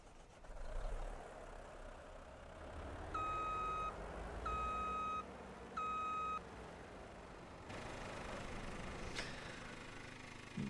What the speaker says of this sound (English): get inside the truck, back it up.